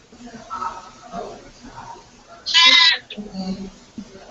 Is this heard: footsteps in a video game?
no